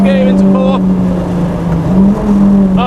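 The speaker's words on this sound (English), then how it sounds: "Revving it a little bit higher, keeping that power band when you change gear into 4" A hybrid-turbo 1.8T VW Golf Mk3 GTI revving hard on a race track, engine note climbing through the gears with brief dips at each shift, loud and close from inside the car.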